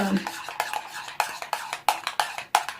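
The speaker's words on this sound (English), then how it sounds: "So we're going to stir this up again" Coleslaw's liquid dressing ingredients stirred in a bowl, a spoon or whisk clinking and scraping against the sides in a steady rhythm of sharp, close strokes with no talking.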